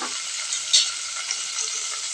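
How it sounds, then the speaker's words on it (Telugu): Small onions and chopped tomato pieces frying in a pan, a bright continuous sizzle with brief stirring scrapes, close and steady with no voices. "ఇప్పుడు మనం చిన్నగా ముక్కలు చేసి పెట్టుకున్న టొమాటో ముక్కలు కూడా వేయండి."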